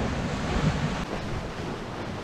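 Strong wind and breaking waves rush past a Proto Mini 800 offshore sailing yacht moving fast under sail, a steady, loud, broadband roar of water and wind buffeting the microphone with no voices.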